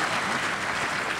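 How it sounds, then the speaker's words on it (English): Audience applause fills a banquet room at an awards luncheon, a dense, steady patter of many hands clapping for about a second with no break. "That's where you applaud"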